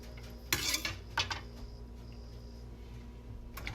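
Onion tipped into a home-kitchen pot with olive oil gives a few soft clinks and scrapes of utensil against cookware, close and fairly quiet, with no talking.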